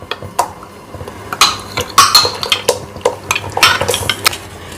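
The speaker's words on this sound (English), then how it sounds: "We need to keep stirring it for 1 minute approximately" Spoon scraping and clinking against a pot while almond and date paste is stirred into boiling milk, irregular metallic knocks and taps over a low simmering hum, close and fairly loud.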